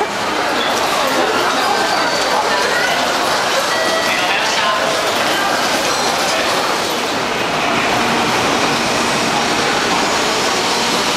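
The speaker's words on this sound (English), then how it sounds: "Bullet train time." A high-speed bullet train roars continuously, a loud, steady rushing rumble with a faint rhythmic rattle of wheels on track.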